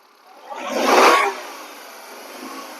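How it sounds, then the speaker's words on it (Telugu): A 2007 Hyundai Santro's engine revs once, a smooth swell that rises over about a second and falls back to a quiet, steady idle, heard close up with no voices. "ఇంజన్ చూడండి ఎంత సైలెంట్గా ఆడుతుందో"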